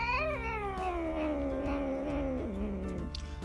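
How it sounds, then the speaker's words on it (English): A single long, drawn-out courtship meow from a cat that slides downward in pitch, whining and plaintive, heard close and alone. "I'll insert the sound of vocalization of a meow here"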